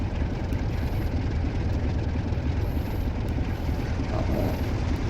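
Class 47 diesel locomotive engine under throttle in a train simulator game, a steady, loud low rumble and drone that holds evenly throughout with no talking over it.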